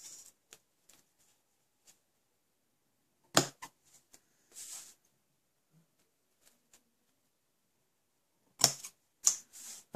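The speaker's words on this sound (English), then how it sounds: "And now I can trim." A paper trimmer slices card stock for a handmade Stampin' Up celebration card, with a few sharp quick cutting strokes and light clicks separated by quiet pauses, close and fairly soft.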